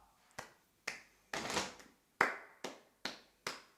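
Sharp, close hand claps ring out one at a time, about eight in all, at an uneven pace with short silent gaps between them. No talking.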